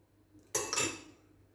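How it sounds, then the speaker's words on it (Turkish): A spoon clinks and scrapes against a metal pot while yogurt starter is stirred into milk, a short burst of clattering contact that fades quickly. "Şöyle bir karıştırıp mayalama işlemimi bitiriyorum."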